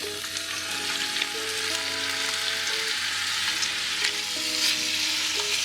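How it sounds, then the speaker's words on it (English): Meat browns in olive oil in a pot over medium heat for a Puerto Rican sancocho stew, a steady dense sizzle running continuously with no voices. "I'm just going to let it brown a little bit"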